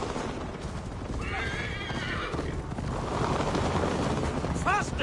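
A horse in a Viking video game whinnies over steady galloping hoofbeats, with a louder neigh near the end and a voice speaking underneath.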